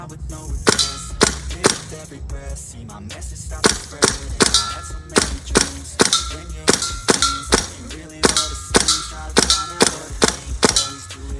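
A gas-powered metal-bodied M4 BB gun fires a long series of sharp, loud, ringing metallic shots at irregular but quick intervals, each crack clear and close.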